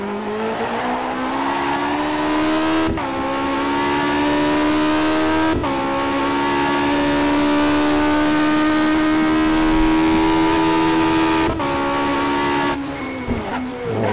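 A classic Tyrrell Formula 1 car roars in rFactor 2 at Silverstone, its loud engine note holding high and steady, broken by a few sharp gear shifts, with a drop-off and downshift near the end.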